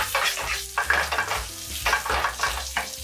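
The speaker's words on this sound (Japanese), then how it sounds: "じゃあ揚げていきます" A Wiener schnitzel cutlet deep-fries in hot oil, giving a close, steady bubbling sizzle broken by a few louder bursts and scraping touches, with no voices.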